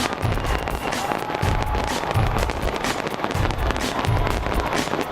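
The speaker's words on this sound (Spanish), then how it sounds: "Con un espectáculo láser y fuegos artificiales en Auckland, Nueva Zelanda da la bienvenida al 2021." Fireworks from the Sky Tower in Auckland, New Zealand, at the New Year 2021 display, with a laser show, keep up a dense stream of crackling bursts and deep booms, loud and continuous, with wind noise on the microphone.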